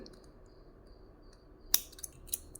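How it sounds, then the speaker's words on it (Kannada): Scissors snip thread while trimming a tassel for a baby kuchu design, giving two or three sharp close snips after a quiet stretch, with no speech. "ನಿಮಗೆ ಎಷ್ಟು ಬೇಕೋ ನೋಡಿಕೊಂಡು ನೀವು ಇದನ್ನು ಕಟ್ ಮಾಡ್ಕೊಳ್ಳಿ"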